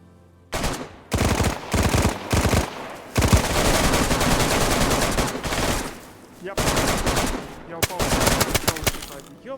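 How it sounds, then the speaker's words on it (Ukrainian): Rapid automatic gunfire in the video game DayZ, several loud close bursts of machine-gun fire separated by brief pauses, sustained over most of the stretch. "Я стріляв по ньому якраз"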